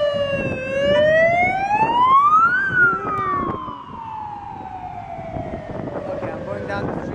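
A wailing ambulance siren sweeps up and down in pitch as it passes nearby on a street in Prague, with traffic noise underneath.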